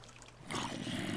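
Water rushes and flows in the video game Minecraft, a soft, steady wash that swells in suddenly partway through and keeps going at low volume.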